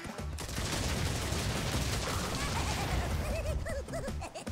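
Loud bursts of rapid crackling detonations from a Crash Bandicoot 2 N. Sane Trilogy game explosion, dense and continuous, with a few short pinging electronic game tones near the end.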